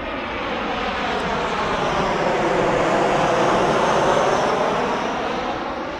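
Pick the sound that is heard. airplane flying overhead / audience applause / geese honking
airplane flying overhead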